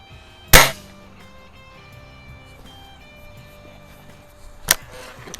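Two sharp, loud shots from a Crosman Optimus .177 break barrel pellet rifle in a backyard, the first strong crack near the start and a second fainter shot about four seconds later, with quiet ambience between.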